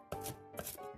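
A knife chops through an onion on a cutting board, giving two quick, quiet strokes about half a second apart.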